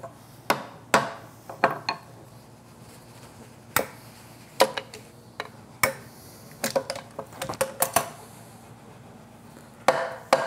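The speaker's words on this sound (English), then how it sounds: "that way, while I'm hammering, I don't deform the frets." A plastic mallet and a brass hammer tap guitar frets at a woodworking bench: sharp, close, irregular knocks, some single and some in quick clusters, over a quiet background.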